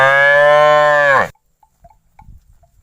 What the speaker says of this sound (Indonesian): di sini ada sapi